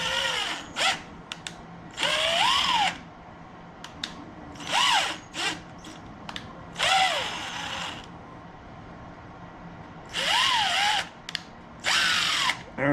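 A power drill rebores a broken screw hole in a pie press, running in repeated short bursts of whirring with brief pauses between, close and loud.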